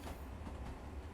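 Long Island Rail Road train running in Train Sim World 2, a continuous rumbling roll with steady clickety-clack, constant and fairly loud throughout.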